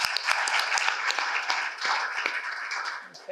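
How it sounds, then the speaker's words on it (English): An audience at a company presentation gives a round of applause, dense clapping from many people that sustains throughout at a steady level. "let's give them a round of applause"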